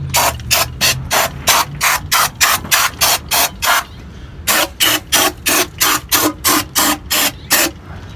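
A rapid series of short, hissing brake cleaner spray bursts on a RAM 1500 rear differential, in a steady rhythm with a brief pause halfway through, close and fairly loud.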